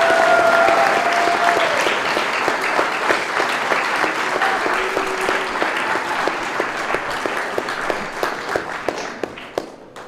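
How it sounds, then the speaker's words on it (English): Loud, sustained audience applause for three young men at a high school college-commitment event, dense crowd clapping with a few distinct sharp claps near the front, gradually easing toward the end. "Let's have another round of applause for these 3 young men."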